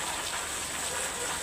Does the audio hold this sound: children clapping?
no